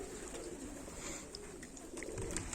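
Pigeons coo faintly while eating from a person's hand outdoors, their low murmuring calls sitting under a steady wash of background noise with a few brief higher chirps.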